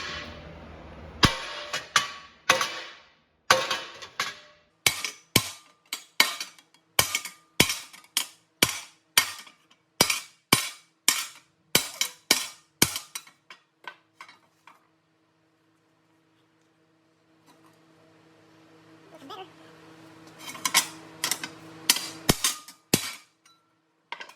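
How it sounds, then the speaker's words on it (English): Steel hammered on an anvil to round a hard corner while making a PTO shield for a Caterpillar D2, with rapid ringing metallic strikes in bursts, a pause with quiet handling noise, then another run of blows. "I think about the best way to do that is with some anvil work"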